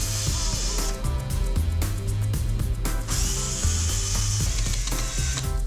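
Two-inch number 10 screws driven into the glued joints of a wooden door frame, giving steady ratcheting, grinding mechanical noise that runs close and continuous with brief dips.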